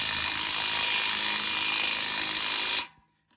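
Power tool tightening brake bracket bolts on a 2004–2012 Chevy Malibu during front strut replacement, a loud continuous whir that holds steady for nearly three seconds, then cuts off abruptly into near silence.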